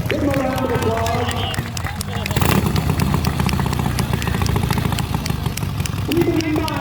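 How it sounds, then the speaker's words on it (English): A 90-year-old motorcycle engine runs steadily at a hot rod stunt show at Lincoln Speedway, a throbbing mid-pitched drone beneath an announcer's talk and crowd noise. "this motorcycle is a 90-year-old motorcycle"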